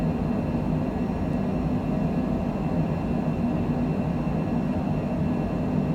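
A steady, droning airplane engine hums low and constant during the departure climb out of Mazatlan, with a broad cabin rumble and no voices.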